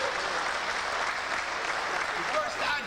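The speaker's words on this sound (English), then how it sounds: "We applaud you." An audience at a lecture bursts into sustained applause, a dense wash of clapping hands heard steadily throughout with no voices standing out.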